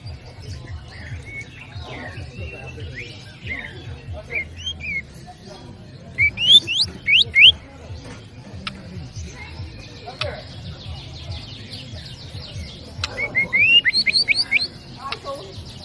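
Canary song is played as a bird-lure call: bright chirps, trills and short warbled phrases come in irregular bursts over a continuous low rumble of background noise, louder around the middle and near the end.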